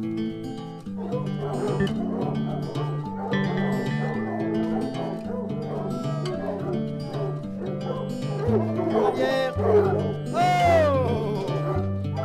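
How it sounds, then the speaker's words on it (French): A pack of French Tricolour hunting hounds at a forest hunt barks and yelps in a dense, overlapping chorus, close and loud throughout, with eager whining cries rising near the end. "Ils veulent tous y aller, les chiens."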